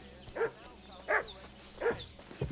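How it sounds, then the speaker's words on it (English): Dog barking in the video game Kingdom Come: Deliverance II, three or four sharp, fairly close barks spaced about half a second apart, with a faint whine in between, and no talking. "The dog is barking."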